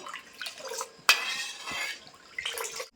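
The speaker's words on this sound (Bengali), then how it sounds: "আমার তো এভাবে অনাবরত আমি নেড়ে যাবো আর জাল দিয়ে যাবো" A spoon stirs and scrapes inside a pot of milk boiling down for kulfi, giving close metallic clinks, one sharp knock, and soft liquid sloshing in between.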